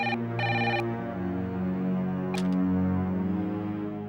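A telephone ringing while an outgoing call connects, with two short electronic ring bursts, the first near the start and a second shorter one later, over steady background music.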